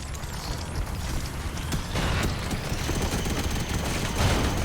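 Minigun fire in the robot battle game Robocraft comes as a dense, rapid mechanical rattle with whirring and clanking that grows stronger partway through and stays close and loud.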